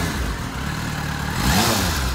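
A 2004 Yamaha FZ6 Fazer 600 inline-four with a completely standard exhaust revs up close by, a steady smooth engine drone that swells louder for a moment toward the end, with no talking.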